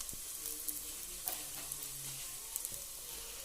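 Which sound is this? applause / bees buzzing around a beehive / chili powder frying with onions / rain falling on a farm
chili powder frying with onions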